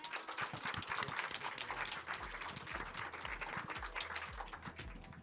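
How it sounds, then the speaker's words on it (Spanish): Audience applause at an inspirational event, a busy, fairly close clapping crowd heard throughout with some low thumping underneath. "Un aplauso, por favor"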